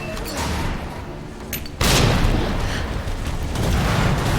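Frag grenade explosions in Resident Evil 2, with a loud broadband blast at about two seconds that sets off a sustained rumbling roar. Quieter crackling and bursts of game action come before it.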